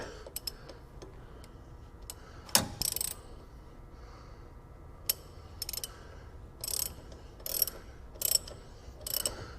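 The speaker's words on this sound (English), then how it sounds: "usually I use a 1/2" drive ratchet for this" A 1/2-inch drive ratchet works on the harmonic balancer of a 5.0 Ford Mustang, with bursts of sharp, rapid clicking separated by pauses and occasional metallic clanks, close and alone.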